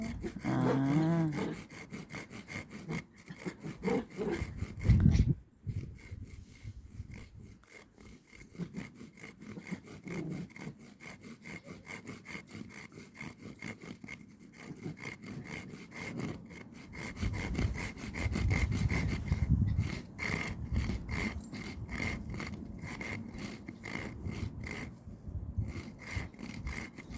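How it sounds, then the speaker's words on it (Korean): A hand saw cuts through wood for a campfire outdoors, with steady back-and-forth rasping strokes, close and continuous, briefly pausing before resuming. "톱질이요."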